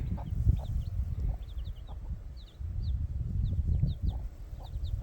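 A backyard hen clucking near a coop, low throaty clucks repeating in uneven bursts close to the listener, with faint high bird chirps in the background and no voices.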